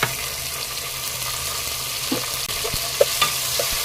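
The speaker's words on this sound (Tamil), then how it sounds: "இப்போ வெங்காயத்தை நல்லா வதக்கிக்கலாங்க" Onions and tomatoes sautéing in a pan for brinjal sambar, a steady low sizzle with a few soft stirring scrapes and clicks near the end, close and continuous.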